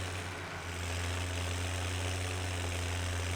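A tractor engine in Farming Simulator 17 idles with a steady low drone and a constant hum, sitting loud and even from start to finish with no talk.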